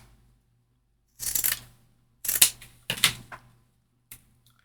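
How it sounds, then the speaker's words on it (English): Scissors trim paper for a beginner autumn journal topper, giving three short bursts of crisp cutting snips close by and a faint final snip against a quiet room. "Let me trim this"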